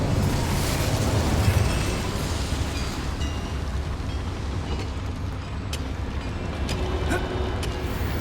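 A fire spell cast in Hogwarts Legacy bursts out as a broad, roaring blast that fades into a steady rumble, set inside a mine.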